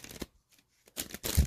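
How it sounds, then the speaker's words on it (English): Tarot cards are shuffled in quick riffling bursts, crisp and close, with short pauses between. "I'm just going to shuffle"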